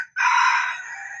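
A hen crows out once, a single loud, sustained call close by that tapers off near the end, with no voices over it.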